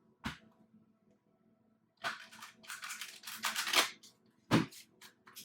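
A deck of tarot cards is shuffled in short, crisp riffling bursts of papery flutter and snaps, separated by quiet gaps, close and fairly soft.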